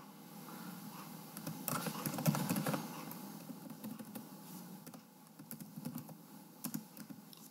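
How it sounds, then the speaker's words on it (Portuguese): Rapid keystrokes on a computer keyboard while a formula is entered into an Excel spreadsheet, an irregular close patter of clicks running steadily throughout with bursts and brief pauses, no voices. "Estou digitando aqui a fórmula."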